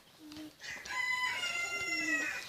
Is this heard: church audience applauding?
no